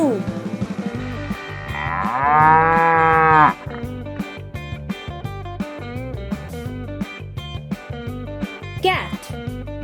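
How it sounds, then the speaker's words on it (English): A cow moos once in a long, loud, drawn-out call over a steady background music bed, the bellow rising and then cutting off sharply. "Cow"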